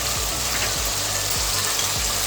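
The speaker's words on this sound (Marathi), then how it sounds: "शेजवान चटणी टाकायची। हे चांगलं फ्राय करून घ्यायचं." Chicken chilli frying in a pan with Schezwan chutney and red chilli powder, a steady close sizzle with a few soft scraping stirs.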